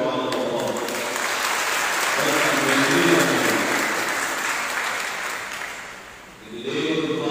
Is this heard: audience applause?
yes